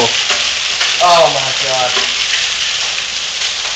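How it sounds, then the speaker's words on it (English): Marble-sized hail and rain pour down outside during a violent storm, a dense steady hiss of impacts filling the whole clip while a person briefly exclaims over it. "Outside is a absolutely horrible storm with marble-sized hail"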